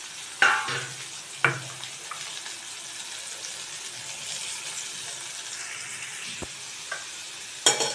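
Chopped onions sizzle in hot oil in a kadai, a steady hiss of frying punctuated by a few sharp clinks of utensils, close and alone without any voices.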